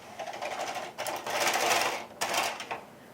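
Ultimate Sweater Machine knitting machine carriage sliding across needles threaded with ravel cord, a close, steady mechanical clatter in three runs separated by brief pauses, no speech.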